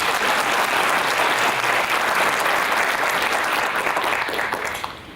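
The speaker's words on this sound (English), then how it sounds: "Give them a clap." Full, steady applause from a graduation ceremony crowd for students, loud and even before tapering off in the final moments.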